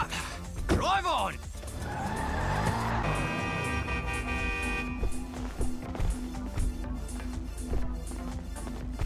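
A car in a video game cutscene pulls away, its engine rising in a sweeping surge with a brief tire squeal, while game voices and background music carry on around it.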